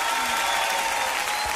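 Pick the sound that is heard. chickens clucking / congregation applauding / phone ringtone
congregation applauding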